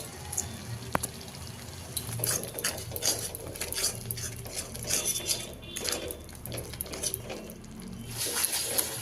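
Masala stirred with yogurt in a pan, heard as soft, busy spoon scraping and clinking against metal over a faint wet bubbling background, fairly quiet and close, with no voices.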